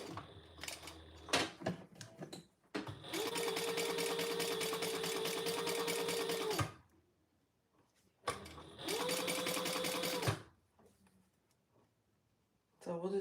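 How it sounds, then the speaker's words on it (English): Sewing machine stitching down the side of a fabric travel case, two long steady runs of fast motor whir separated by silence, with brief handling clicks and a moment of speech at the start. "I'm just going to sew down the side."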